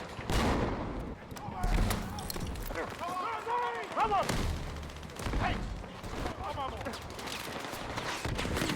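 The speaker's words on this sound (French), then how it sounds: "Ah, j'ai le fusil à pompe, j'ai oublié." Shotgun blasts and surrounding gunfire in the video game Battlefield 6, with several sharp shots spread across the stretch amid battle noise, while a player talks over it.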